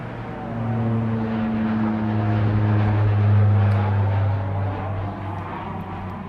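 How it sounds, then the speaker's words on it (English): Propeller airplane droning overhead in an outdoor setting in Tokyo, a steady low hum that swells slightly near the middle and stays continuous throughout with no talking. "Another airplane coming."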